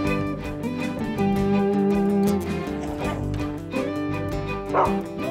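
Hunting dogs bark and yip over a loud musical score, with several short, repeated barks at mid distance.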